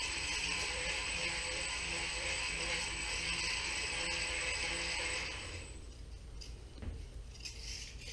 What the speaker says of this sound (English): You can hear the servos cycling here when I give full stick.